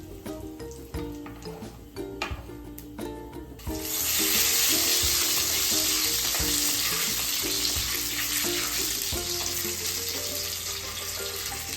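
Bay leaf dropped into hot oil for tempering a spiced prawn masala, setting off a sudden loud sizzle that swells at once and holds as a steady, bright frying hiss, preceded by softer kitchen clatter.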